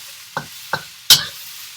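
Bean sprouts are stirred in a wok for pad thai, giving three quick scraping clatters spaced apart, the last the loudest, over a faint quiet background.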